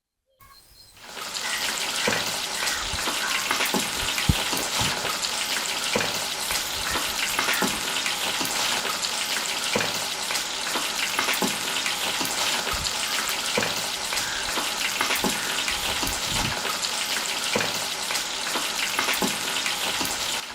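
Chicken pieces crackle and sizzle loudly in hot oil as spicy crispy fried chicken is cooked in a village. The dense, continuous frying carries on for the whole stretch with scattered pops and no voices.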